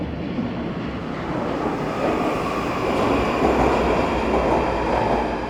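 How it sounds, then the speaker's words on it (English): A London Underground train approaching Oval station, a steady broadband rumble and rail roar that swells gradually as it nears, loud and continuous with no voices. "Train is approaching."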